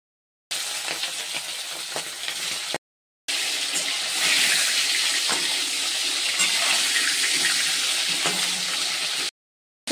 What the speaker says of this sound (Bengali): কড়াইতে তেলটা দিয়েছি, হয়ে গেছে। এবার একটা একটা করে মাছ